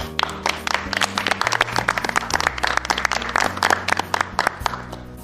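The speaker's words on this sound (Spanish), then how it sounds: "Un aplauso para ellos." Applause for performers at a theatre tribute on a local music and tradition programme, with distinct individual claps from a modest crowd over a low steady tone.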